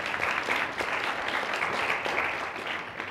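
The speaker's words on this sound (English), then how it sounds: "Yes, you can give her a round of applause" An audience at a biomedical engineering society conference applauds a mock interview candidate, a continuous, dense round of clapping that holds steady for a few seconds before starting to taper off, with no talking over it.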